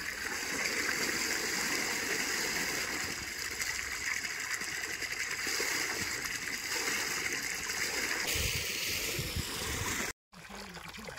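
Water from a small motor pump pours steadily into a village pond, a continuous close splashing and trickling rush that runs unbroken, then cuts off abruptly near the end.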